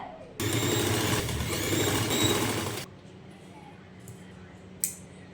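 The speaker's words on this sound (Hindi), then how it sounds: "अब जहाँ से हमने पट्टी को स्टार्ट किया है दूसरी साइड से वहाँ से हमने अपनी सिलाई को स्टार्ट करना है।" Sewing machine stitching a Chinese collar strip onto a shirt, a steady loud mechanical whir for about two and a half seconds, then stopping, followed by faint handling sounds.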